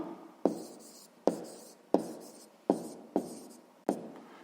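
Pen or pencil writing numbers on paper for a sixth-grade math exercise, six distinct scratchy strokes in a steady rhythm, close and fairly quiet, with no talk.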